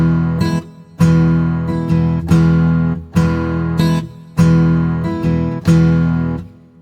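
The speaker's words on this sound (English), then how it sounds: "I want it to sound like this. I'm just going to kind of play it in roughly using the single strum downstroke and upstroke keys." Virtual guitar from the Evolution Guitar Engine strums a rhythmic down-and-up pattern, six loud chord strikes each ringing briefly before the next, with no voice.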